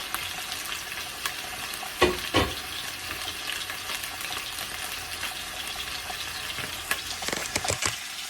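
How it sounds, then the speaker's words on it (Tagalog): Chicken frying in hot oil during home cooking of chicken adobo, a steady close sizzle with sharp crackling pops of splattering oil, a few louder bursts near the start and end. "Talsik yung mantika."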